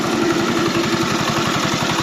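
A converted Forte 10 walk-behind tractor engine runs steadily nearby, a loud, continuous single-cylinder chug with a fast, even thump and no talk over it.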